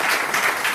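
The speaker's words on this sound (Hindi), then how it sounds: "आप ताली बजा सकते हैं" Audience applause in a hall during a health talk, dense steady clapping from many hands filling a short burst without pause.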